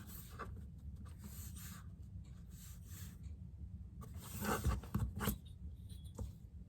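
A pencil scratches short strokes on paper against a ruler while marking a grid, faint and close, in several brief bursts with quiet gaps between.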